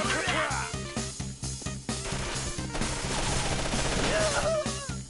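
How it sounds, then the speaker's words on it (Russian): In the video game Mercenary Kings, a machine gun fires in long, rapid bursts of loud, dense gunfire that go on almost without a break, with game music and effects mixed in. "Да, пулемет это совсем другое дело"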